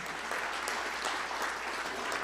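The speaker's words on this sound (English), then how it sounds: "you can give her a round of applause." Banquet guests applaud as names are called, a soft, even patter of many hands heard from a little distance, briefly and without talk.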